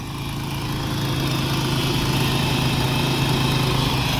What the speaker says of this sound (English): But the engine and supercharger sound good.